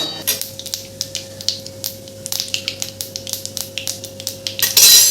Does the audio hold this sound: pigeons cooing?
no